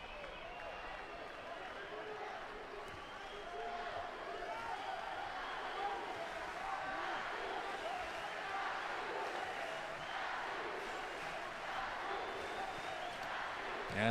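Spectators at a Rio 2016 Paralympic wheelchair basketball game between Australia and Brazil raise a steady, sustained roar of cheering for Brazil, a broad arena-wide crowd noise that swells slightly and holds throughout.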